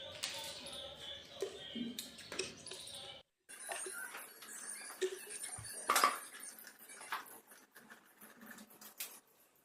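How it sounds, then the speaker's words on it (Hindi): Scissors cut through fabric for a collar-neck kurti, making sharp metallic snips and clicks in irregular, close bursts against a quiet background, with one short pause partway through. "अब इसकी कटिंग करते हैं।"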